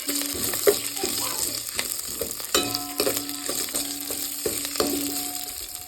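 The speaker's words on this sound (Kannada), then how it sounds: "ಕರಿಬೇವಿನ ಸೊಪ್ಪನ್ನು ಹಾಕ್ತಾ ಇದ್ದೀನಿ ಒಂದೆರಡು ಹಸಿಮೆಣಸು ಹಾಗೆ ಒಂದು ಕೆಂಪು ಮೆಣಸನ್ನು ಹಾಕೊಳ್ತಾ ಇದ್ದೀನಿ" Curry leaves, a couple of green chilies and a dried red chili frying in hot oil for an amla rasam, with a steady close sizzle broken by light stirring clinks and scrapes.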